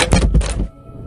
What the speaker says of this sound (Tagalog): Pagbukas ng pinto ni Nay Consuelo.